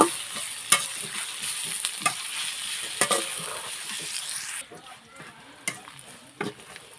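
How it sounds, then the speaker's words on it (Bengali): Chopped onion frying in oil in a karahi, with a steady sizzle, several sharp clicks and scrapes from stirring, and quieter frying toward the end. "পেঁয়াজটা আমি এক মিনিটের মতন ভালোভাবে ভেজে নেব"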